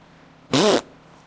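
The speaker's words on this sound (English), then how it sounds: "He sat there looking innocently around and farting." A dog's fart: one loud, buzzy burst with a wavering pitch lasting about a third of a second, standing alone against quiet background hiss.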